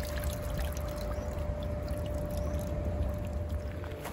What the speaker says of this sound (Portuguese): Deixa a água entrar por cima.